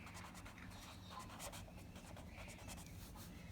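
Chalk or marker scratches and rubs on a board as a heading is written, quiet and continuous with soft textured strokes.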